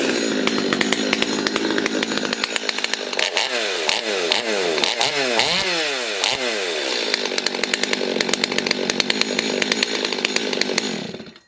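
Stihl MS250 chainsaw with a modified muffler, running loud and close with rapid revving bursts, the engine note sweeping up and down several times between steady high-speed running.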